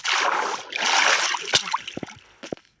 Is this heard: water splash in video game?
yes